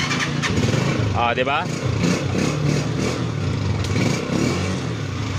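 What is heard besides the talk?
motorcycle engine started with digital panel swipe card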